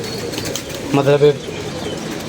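Pigeons cooing close by: one short, throaty, warbling coo rising out of steady background noise, under a brief spoken word.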